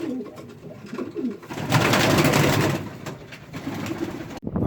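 Fantail and coloured racing pigeons coo steadily outside their lofts on an allotment, a dense chorus of soft, rolling calls from several birds nearby, rising in the middle and continuing throughout.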